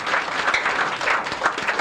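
A crowd claps steadily in a continuous wash of applause, fairly loud and sustained, with faint voices underneath.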